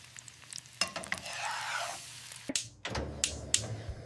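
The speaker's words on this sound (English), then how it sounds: "I fry eggs." Eggs frying in hot oil on a gas stove, a steady close sizzle with crackling spits, interrupted by a few sharp clinks and scrapes of a utensil near the pan.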